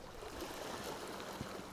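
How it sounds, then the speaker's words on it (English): Gentle waves lap at the shore outside a boathouse on a bay, a soft, continuous wash of water at moderate distance with a faint splash near the end and no voices. "I could hear the waves lapping outside the boathouse"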